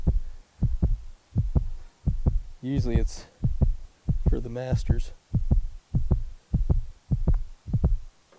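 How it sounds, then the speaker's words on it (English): A heartbeat sound effect like the pressure cue in the Tiger Woods PGA golf video game thumps in a steady, even rhythm throughout. It plays loud and close on a golf course, and a person speaks briefly over the middle beats. "like play Tiger Woods when the heartbeat starts"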